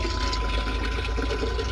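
Water gushes steadily into an LG top-load washing machine drum during a cleaning cycle, a dense, loud, constant rush close by with no pause.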